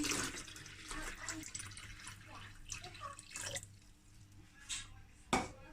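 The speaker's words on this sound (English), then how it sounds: "I'm gonna put in some tap water." Tap water pouring and splashing into the tank of a Fimei Electroniq humidifier, a steady running trickle with drips and sloshes over a low hum, ending in a sharp knock.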